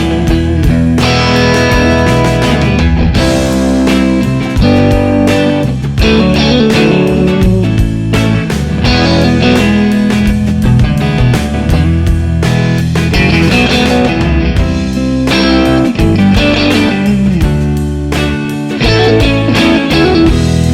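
An electric guitar plays licks over a backing track, loud overdriven phrases and bends riding on a full band groove of drums and bass throughout.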